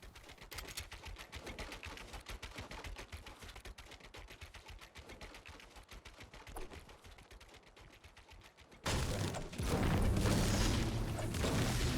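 Rapid, distant gunfire in the video game Fortnite crackles steadily in bursts, then the sound abruptly shifts to a louder, rougher roar near the end.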